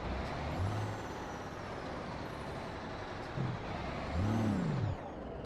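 A Jake engine brake on a Mack R truck in American Truck Simulator, 280 horsepower pulling a 14-ton Fruehauf trailer, heard as a steady hissing, droning truck noise with short low bursts swelling louder near the end.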